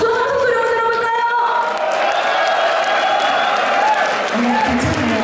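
Concert audience at a Seoul alumni gathering applauding and cheering, a dense, loud crowd wash with whoops over it, while a voice and a sustained musical tone carry on underneath.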